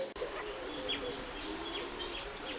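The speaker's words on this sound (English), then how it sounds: "I don't know if you can hear, but there's a helmeted guineafowl" A helmeted guineafowl gives faint, scattered calls in a large bird enclosure, heard over a steady background hum with other birds around.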